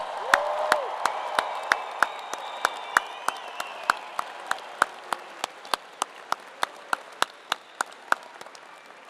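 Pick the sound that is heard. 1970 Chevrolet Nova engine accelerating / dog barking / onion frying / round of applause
round of applause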